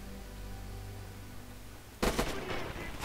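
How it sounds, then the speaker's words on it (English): Machine gun fire in the Red Orchestra 2 game rips out in a loud, sudden burst of rapid shots after a quiet stretch of low rumble, continuing in further close volleys. "Oh, it's a machine gun."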